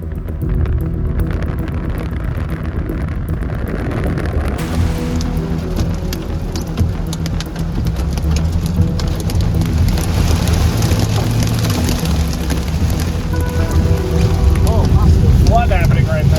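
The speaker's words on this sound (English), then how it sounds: "Some flash flood potential on this very heavy blinding rain in Traveler's Rest." Very heavy, blinding rain pours down during a thunderstorm in Traveler's Rest, a loud, dense and unbroken roar that holds steady from start to finish.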